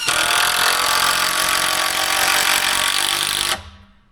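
A power tool drives a 4-inch screw into a shed header beam, a loud continuous whining drone close by that stops abruptly near the end and rings down.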